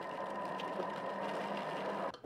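Food processor blending smoked carp flesh for a mousseline in a professional restaurant kitchen, a steady motor whir running throughout and cutting off abruptly at the end, with no talking.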